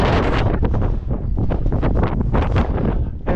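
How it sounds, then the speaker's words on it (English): Heavy wind buffeting a microphone outdoors in Birkenhead, a constant loud low roar with gusty surges throughout. "it's a bit windy"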